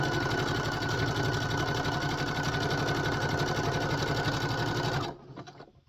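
Sewing machine stitching over an already sewn seam of a twist headband, a loud, close, steady mechanical whir that runs evenly for about five seconds before stopping abruptly and rattling down.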